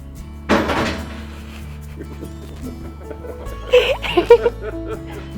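A door thuds shut close by with a single solid knock, followed by a low steady hum and later a cluster of small clatters and rattles.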